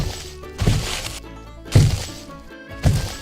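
Foley imitation of mammoth footsteps for film: three heavy, booming thuds spaced about a second apart, each with a low, crunching impact and a ringing tail, close and loud, with no talking.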